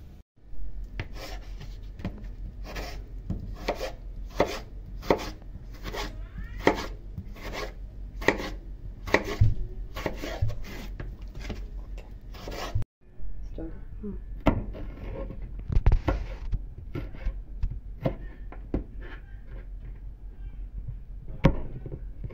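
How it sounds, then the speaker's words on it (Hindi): Tomatoes and green chillies being chopped with a knife on a board for a restaurant-style chicken karahi, a steady run of crisp, evenly spaced strokes up close, then looser scattered knocks and clatter. "हमने टमाटर हरी मिर्चें काट लिए हैं"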